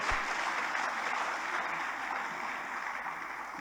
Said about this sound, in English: May I ask that we please give Honorable Justice Amina Aogi Sepan a round of applause